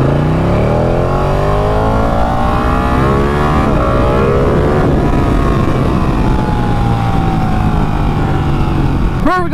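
A Honda Fireblade motorcycle passes with its engine loud and near, revving through rising and falling pitch sweeps over a steady road roar. Someone speaks faintly at one point.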